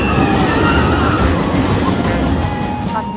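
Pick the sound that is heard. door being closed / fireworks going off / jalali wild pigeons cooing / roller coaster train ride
roller coaster train ride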